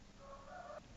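A rooster crows once from close by, a single drawn-out call lasting under a second, heard alone without any voices.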